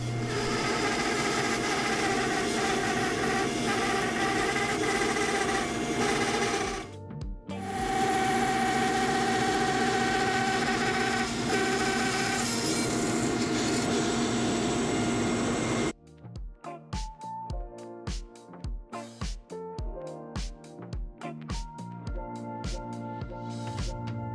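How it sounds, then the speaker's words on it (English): A bandsaw rips wood slabs for candle boxes, a loud steady whine for about sixteen seconds with a brief break near seven seconds, followed by a run of evenly spaced sharp knocks. "So what I'm going to do is thickness first. Off to the bandsaw."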